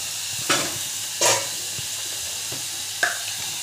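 Tomato masala mixture for a tomato chapati breakfast stirred in a pan, with a few distinct scraping strokes spaced apart over a steady low sizzle.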